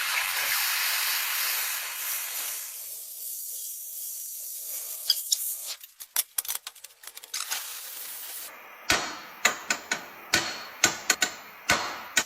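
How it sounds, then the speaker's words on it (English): A torch hisses steadily while heating a Suzuki GSX-R750 motorcycle frame, followed by a series of sharp metallic taps as a tool pushes the frame outward bit by bit, the knocks irregular at first and then spaced and louder. "Slowly heat the frame with a torch. Then use a tool from inside the frame to push it outward bit by bit."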